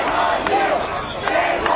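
A crowd of protesters gathered outside a building shouts and chants continuously, a dense roar of many voices with a few louder bursts standing out.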